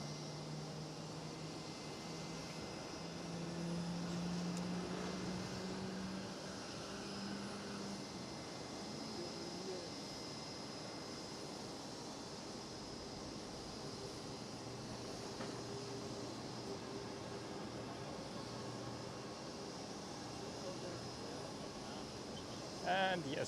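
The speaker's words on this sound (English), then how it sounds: "There is the Pilatus PC-24." A Pilatus PC-24 business jet at Schiphol Amsterdam sends a distant, steady engine hum across a long stretch, faint and even with small swells, while a voice talks at times over it.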